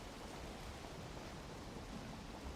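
Rain falls in a steady, even hiss, soft and continuous with no voices or other sounds over it.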